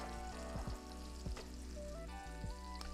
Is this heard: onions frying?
yes